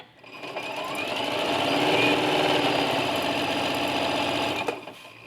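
A sewing machine stitches a quilt seam, giving a steady, close mechanical whir that runs unbroken for several seconds with no talking.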